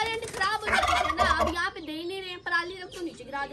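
A farm turkey gobbling: repeated loud, warbling calls in quick bursts, close to the microphone, with other fowl faintly around.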